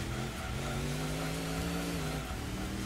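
A 1967 Corvette nearly spins out in Gran Turismo 2 on Midfield Raceway, its engine droning steadily at high revs with a held tire squeal sliding in pitch, then easing off near the end.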